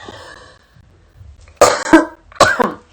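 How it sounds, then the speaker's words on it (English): Someone clears their throat in two harsh, close bursts after a brief murmur of breath. "I gotta clear my throat"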